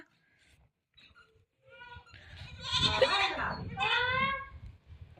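Goats bleat in a series of wavering, nasal calls in a village, getting louder midway, with quieter sounds before them and no talking.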